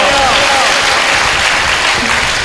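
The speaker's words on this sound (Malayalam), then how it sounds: "കൈയടിച്ച് കർത്താവിന് മാത്രം കൊടുത്തേ" A church congregation claps together in praise at a prayer meeting, a dense, loud, continuous burst of applause from many hands filling the whole moment.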